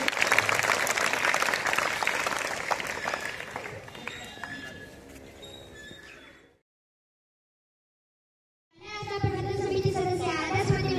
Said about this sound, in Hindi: जोरदार ताली हो जाए इन लोगों के लिए।